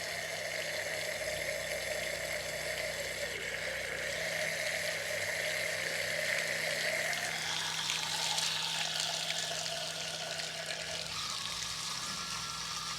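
Water flushes steadily from the opened hot line of a single-handle shower valve during a cartridge replacement, a continuous rushing hiss that holds for the whole stretch and shifts slightly in tone partway through.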